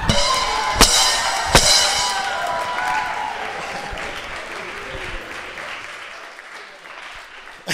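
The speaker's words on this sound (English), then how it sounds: "Thank you for applauding that." Stand-up comedy club audience applauding after a comic's bit, a dense, steady clapping wash with a couple of sharp early claps, slowly thinning toward the end.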